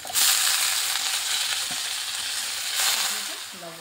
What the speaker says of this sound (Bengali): আমি আর এখন আলু তেল দিইনি, ওই অল্প তেলেই ভেজে নিচ্ছি